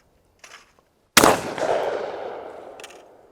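A single loud shotgun blast fired at a clay target, with a long decaying echo rolling out after it and a faint thump just before.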